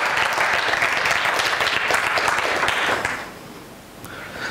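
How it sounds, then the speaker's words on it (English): Steady hand clapping from a conference audience, a sustained crowd of hands for about three seconds before it thins and trails off. "If you can give them a hand clap, just give them a wave."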